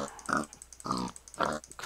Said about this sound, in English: Did I hear a pig?